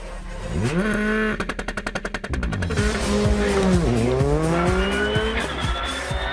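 A 350-horsepower front-wheel-drive rally car at the 2019 Critérium des Cévennes rally accelerates hard down a straight, its loud close engine rising in pitch through several gear changes, with a brief rapid stutter midway.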